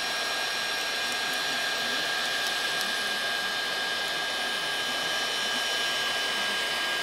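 A heat tool blasts hot air onto a steak as it cooks, giving a steady, even whoosh like a hair dryer, held close and constant for several seconds with no speech.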